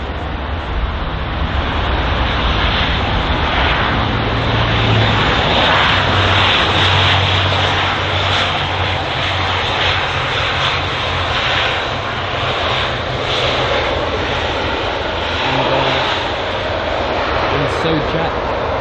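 An ATR 72 turboprop airliner at London Heathrow gives a loud, constant engine roar with a low droning hum, filling the whole stretch without a break.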